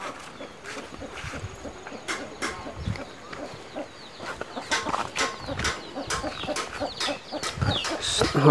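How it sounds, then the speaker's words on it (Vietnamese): A flock of chickens clucks and calls outdoors at a rural home, with irregular overlapping clucks and short squawks near and far, growing busier toward the end. "Ở đây còn có một đàn gà nữa này"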